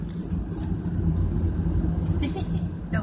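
A car driving along a road, a steady low engine and tyre rumble heard from inside the cabin throughout, with a person talking over it.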